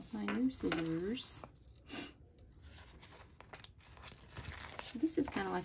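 Soft crinkling and snipping of paper in a quiet room, with brief bursts of speech before and after the cutting.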